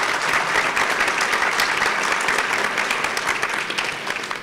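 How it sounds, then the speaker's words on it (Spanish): An audience at an international legal conference applauds, dense steady clapping from many hands filling the room, loud at first and thinning slightly toward the end, with no voices over it. "Un aplauso, por favor."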